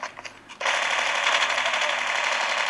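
Rapid automatic gunfire from the Call of Duty Mobile game, played on a Realme 6 Pro phone, breaks out after a few short sounds and continues as a loud, sustained burst.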